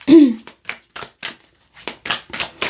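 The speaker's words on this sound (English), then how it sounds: "Let me give this a bit of a shuffle. Very slippery. It's a fairly new deck." A fairly new, slippery tarot deck is shuffled by hand in a string of short, crisp papery bursts with brief gaps between them, close and fairly loud.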